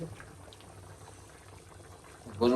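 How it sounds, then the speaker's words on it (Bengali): Meat curry in a pot bubbles and simmers faintly, a soft, steady boiling texture with a low hum, ending in a brief louder clatter. "মাংস বসাই দিছে মাংস রান্না করা হয়েছে"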